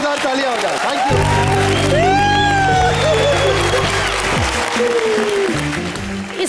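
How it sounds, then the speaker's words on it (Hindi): Studio audience at a televised Hindi comedy show cheers and applauds, the broad crowd noise mixed with loud sustained musical tones and voices throughout. "जोरदार तालियां हो जाए"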